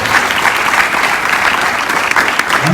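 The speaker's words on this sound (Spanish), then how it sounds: "dele el mejor aplauso al Rey de Reyes" A church congregation applauds together at a worship service, a dense, even wash of clapping that holds steady from start to finish with no speech over it.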